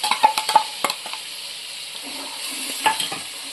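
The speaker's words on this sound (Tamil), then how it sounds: "நல்லா பச்சை ஸ்மெல் போகிற தொட்டிக்கு நல்லா நம்ம வதக்கிக்கலாம்" Ginger garlic paste with masala sautés for mutton biryani, a soft sizzle under a few sharp spoon clinks and scrapes against the pan, close and moderately quiet.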